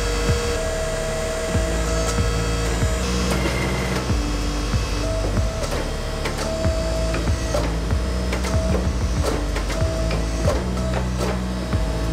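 A DIY forge press squeezing a hot piece of 1095 high carbon steel in a workshop, a steady mechanical hum and drone running throughout with repeated clanks and knocks, fairly loud, no talk.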